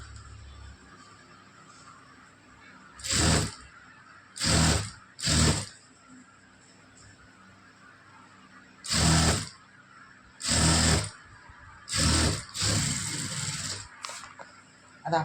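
A sewing machine stitches a lined blouse in several separate bursts of a few seconds each, loud and close, with quiet pauses between runs and no talking.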